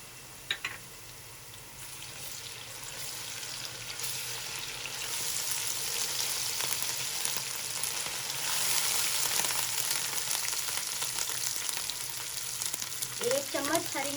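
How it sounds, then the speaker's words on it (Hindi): Ginger garlic paste frying with onions in a pot, a steady close sizzle that grows louder as it cooks, with occasional stirring scrapes and clatter. "मेरे पास ये 2 चम्मच अदरक लहसुन है, ये डालेंगे।"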